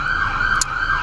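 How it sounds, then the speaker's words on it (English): Steady wailing tone of an emergency vehicle siren, loud and sustained through a brief moment, with a faint passing click near the middle. "I'm just like used to sirens."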